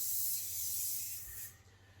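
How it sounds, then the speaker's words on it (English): Cooking spray oil hisses steadily into a non-stick muffin tin in one continuous close burst lasting over a second, then cuts off. "I do spray it first with a bit of spray oil just to make sure it doesn't stick"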